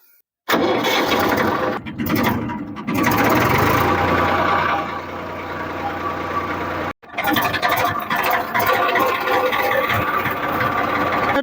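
A tractor engine runs loud and close at a groundnut field before harvesting, roaring with shifting revs, dropping out briefly near seven seconds and then resuming its rough, steady rumble.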